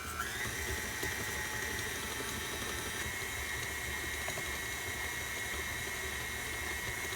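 A KitchenAid stand mixer runs on speed 4, creaming sugar and butter for peanut butter cookies, giving a steady, even motor whir with a faint whine that holds for several seconds without pause.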